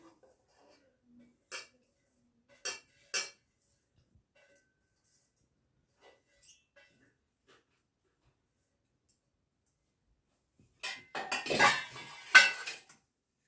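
A bowl of corn fritter batter with onion, green chilli and coriander being mixed, a few isolated clinks of a spoon on the bowl, then a louder cluster of scraping and clattering near the end.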